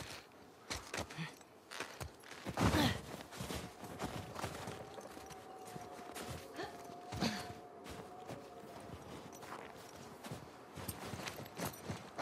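A horse's hooves clip-clop at a walking pace on the ground in The Last of Us Part II, soft and fairly close, with people talking and breathing over them.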